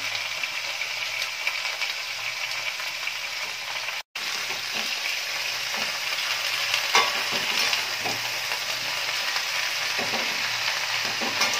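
Bottle gourd greens fry with a steady loud sizzle in a pan as they are stirred, the utensil scraping and clicking repeatedly, with a brief dropout in the sound partway through; no voices.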